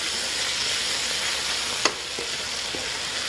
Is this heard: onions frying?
yes